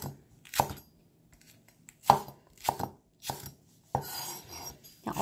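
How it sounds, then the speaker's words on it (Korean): A knife chops onion on a cutting board for a Korean stir-fried squid dish, with about six sharp, close chopping strikes in uneven bursts separated by short quiet gaps. "그냥 어서어서 썰어주시면 돼요."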